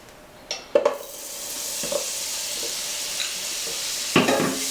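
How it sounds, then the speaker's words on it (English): Butter, a quarter cup, sizzling in a pan over medium-high heat, a steady soft hiss that swells after a few sharp clatters near the start and again near the end. "So now we're going to go ahead and put in 1/4 cup of butter."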